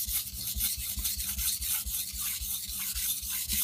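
A steel blade is drawn under moderate pressure along the full length and center of a sharpening stone, working the secondary bevel. Steady rhythmic rasping strokes, about three per second, repeat close and loud with no talk.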